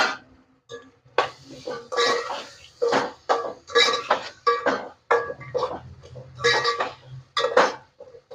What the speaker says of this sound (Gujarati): હવે ટમેટાને કરી લેશું મિક્સ